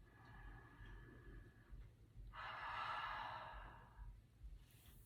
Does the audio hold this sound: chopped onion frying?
no